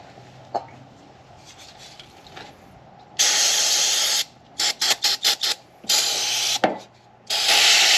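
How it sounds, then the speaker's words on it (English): Brake cleaner sprays onto the battery cables of a Subaru. After a quiet start comes a sustained loud hiss, then a run of short spurts, then more long hissing blasts, all close up. "This is just brake clean, by the way, just to make it quicker to clean it up"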